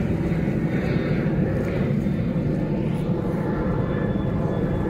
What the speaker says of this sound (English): there is another plane